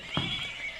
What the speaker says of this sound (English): these are incredible little horses because they have different textures and they make a sound